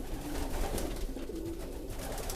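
Pigeons coo steadily in a close, busy chorus, soft throaty calls overlapping against a low background hum.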